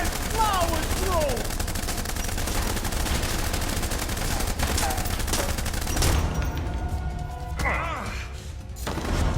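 Gunfire in the Blues & Bullets video game, dense rattling shots and crashes over a continuous loud mix, with raised voices talking over the shooting.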